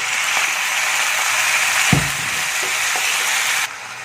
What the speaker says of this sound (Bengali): এবার এখানে একদম অল্প পরিমাণ জল অ্যাড করে এটাকে ভালো করে এখন কষবো আমি।